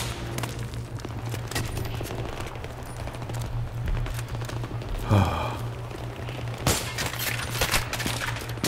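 Sustained automatic gunfire aimed at the player in Battlefield 3, rapid bursts crackling steadily throughout, with a heavier impact near the middle and gasping breaths mixed in.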